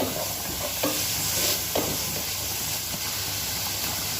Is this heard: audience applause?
no